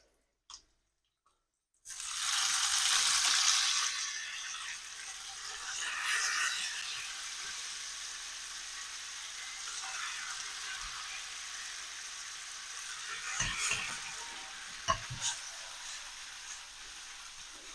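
Spaghetti tossed through frying guanciale in a hot pan for carbonara, a steady loud sizzle and wet crackle starting after a short silence, with a few sharp clacks of the pan and stirring near the end.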